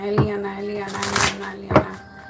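Tarot cards shuffled by hand, a few brief riffling bursts close by, with a voice speaking between them.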